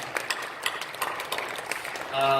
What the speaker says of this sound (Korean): 박수를 격려해 주시고 고맙습니다